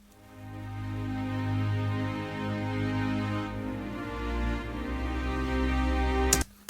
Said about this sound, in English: So the string ensemble sounds like this.